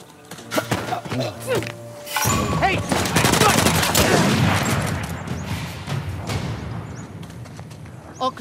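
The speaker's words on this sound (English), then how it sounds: "It's a shotgun." Shotgun blasts and a dense fusillade of gunfire in the game Uncharted: The Lost Legacy, set in the Western Ghats. The shots are loud and rapid with booming echoes, and voices talk over the shooting.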